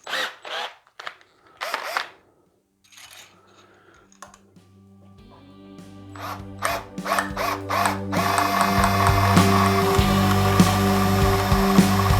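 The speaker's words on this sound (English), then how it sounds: "that will stop the drill bit from cutting in to the other end of the pickup route" A power drill whines up while drilling a guitar pickup route, first in short intermittent bursts amid clicks and taps, then running steadily and loudly through the final seconds.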